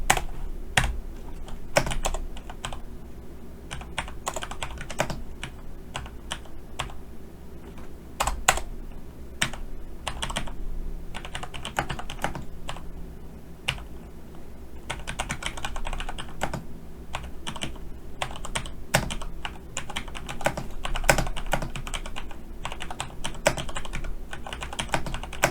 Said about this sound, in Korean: 여기 사이에다가 이제 타이핑하면 됩니다.